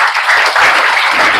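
A class claps its hands together, loud and close, in a dense continuous patter lasting just over a second.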